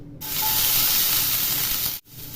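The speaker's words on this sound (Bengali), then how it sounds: "তেল গরম হয়ে গেছে এখন রসুন কুচি তেলের মধ্যে দিয়ে দিচ্ছি" Chopped garlic dropped into hot oil in a pan, giving a loud, steady sizzle and hiss that holds strong for about two seconds, then briefly cuts out before the frying resumes.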